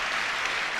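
A church congregation at a morning service claps in a brief, dense burst of applause, faint and steady without voices.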